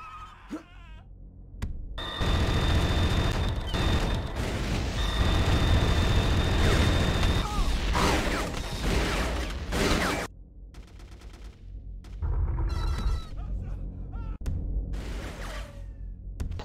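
Loud, dense bursts of firestorm cannon fire in a video game blast continuously for several seconds, then give way to quieter, scattered electronic game effects.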